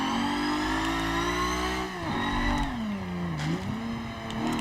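Race car engine in Forza Motorsport 7 revving continuously, its pitch dipping and climbing through a couple of swells, sounding steady and close with no talk over it.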